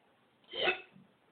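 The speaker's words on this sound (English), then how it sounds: "Just with the fucking hiccups." A single short hiccup, close and fairly quiet, standing alone in a quiet room.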